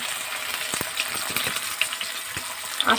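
Mourala fish fry in hot oil with a steady, dense sizzle and crackle throughout, and a few faint clinks and spatters on top.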